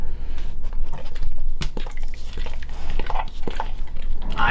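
A dog chewing a homemade venison lung treat up close, with wet, squishy bites and crunchy snaps in an irregular rhythm, fairly loud.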